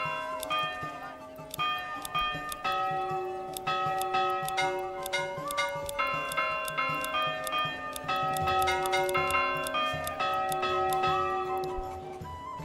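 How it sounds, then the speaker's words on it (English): Church bells ring in the medieval city-building game Manor Lords, a steady series of clear, resonant strikes that overlap and sustain over tonal background music. "Bells make a nice little sound."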